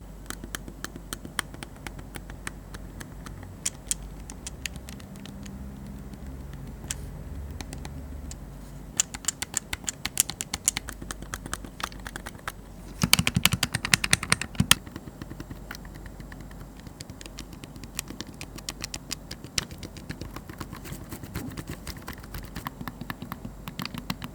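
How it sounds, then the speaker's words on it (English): Modded clicky tactile buttons on a Sony PSP are pressed up close in a long series of sharp, light clicks, sometimes rapid and clustered, sometimes spaced out, with a brief burst of denser clicking midway. "before I give you my final thoughts of what these buttons sound like up close"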